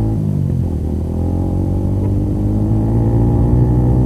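Yamaha Sniper 150 motorcycle with an Akrapovic muffler and silencer fitted, a steady loud rumbling exhaust drone during a test ride, close and continuous with no speech.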